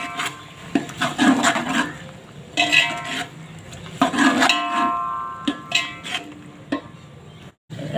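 Chopped tomatoes, four of them, tumble into a cooking pot of sautéed pulao base, giving scattered soft thuds and wet scraping and stirring rubs against the pot, fairly close and irregular, with no talk.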